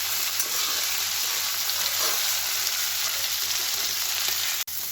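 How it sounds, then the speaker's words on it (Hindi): Vegetables fry over full flame in a pan, a loud, steady, dense sizzle that holds throughout with no talk, ending in a brief clunk near the close. "नोआ सब्जी को दो फुल आँच रेगे बन भाजाया"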